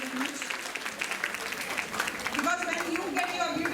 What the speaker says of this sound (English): Huge round of applause for our photographers and videographers